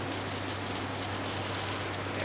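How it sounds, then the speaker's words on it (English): Rain falls in a soft, steady hiss, a continuous wash of drops with no voices. "It's starting to rain here."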